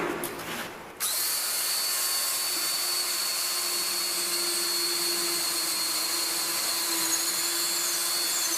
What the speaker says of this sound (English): you too could hear that the drill was a little bit sharp